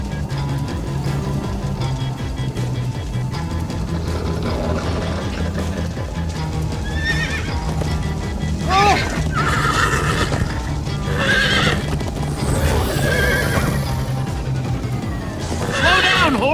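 Horses in the Minecraft Story Mode video game whinny repeatedly and gallop with rhythmic hoof clops, the neighs rising in several sharp bursts over a steady game backdrop.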